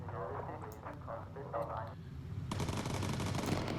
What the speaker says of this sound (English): That 50 cal sounds like a proper heavy gun though.